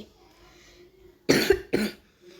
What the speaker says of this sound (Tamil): எனக்கு கொஞ்சம் இருமல் கைஸ்